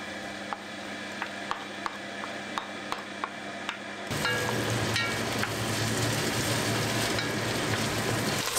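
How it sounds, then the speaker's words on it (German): Onions sizzle and fry in a pan, starting with faint ticking and a few sharp clicks, then swelling into a loud, dense, steady crackle once the pan heats up, with no voices. "Zwiebeln schön anbraten."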